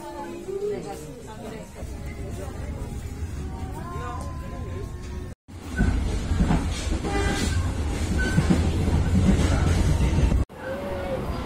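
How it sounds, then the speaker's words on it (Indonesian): A passenger train rolls into Krenceng station on the line toward Merak, with steady rail rumble and clattering wheels that swell louder midway, while people talk over the noise. "Kereta api sudah memasuki stasiun Krenceng"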